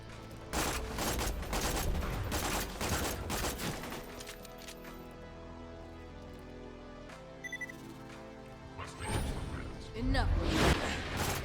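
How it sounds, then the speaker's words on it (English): Rockets fired at the player in the video game Borderlands by an RPG loader, heard as a dense run of sharp bursts and whooshing blasts with loud impacts at both start and end and a quieter stretch in the middle, under a voice. "Something firing rockets on the right hand side."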